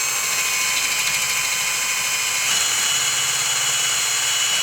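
A power drill bores a straight hole for a homemade fishing rod rest, a steady high-pitched whine running continuously at moderate loudness with a slight change in pitch partway through and no talking.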